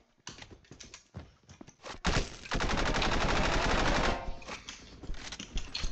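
Rapid automatic weapon fire in a shooter video game, with bursts of shots building into a sustained loud stream of gunfire before tapering into scattered single shots.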